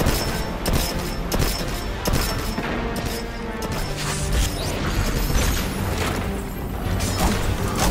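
Dense, continuous video game gunfire in Destiny as players shoot a boss during a Grandmaster Nightfall, with rapid overlapping shots and crashes, loud throughout and without talk.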